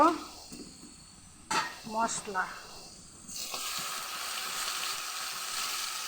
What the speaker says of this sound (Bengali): মশলাটা ভেজে নিই ভালো করে। মশলাটা দিয়ে ভেজে নিচ্ছি